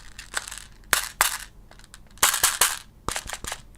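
Irregular sharp taps and clicks on a hard, hollow plastic Steyr AUG mid-cap airsoft magazine, several quick hits in bursts with brief pauses, close and crisp.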